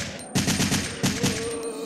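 Jill's handgun firing in Resident Evil 3, a quick string of loud, close shots in two clusters, each crack sharp and punchy with a brief ringing tail.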